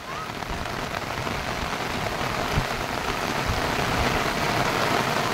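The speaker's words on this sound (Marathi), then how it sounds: "हा पाऊस बघा किती." Heavy rain pours over a village, a dense, loud and unbroken roar of drops hitting the ground and surfaces around, with no one speaking.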